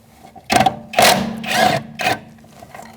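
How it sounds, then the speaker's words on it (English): A 13mm socket wrench loosening rear brake caliper bolts on a 2016-2019 Chevrolet Cruze, four quick bursts of ratcheting clicks in an uneven rhythm, close and fairly loud. "we're going to use a 13mm socket and we're going to loosen up these two bolts"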